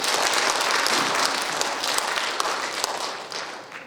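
Sustained applause from a seated audience at the 15th Nogunri Peace Prize award ceremony, a dense steady clapping that slowly fades toward the end, with no talking over it.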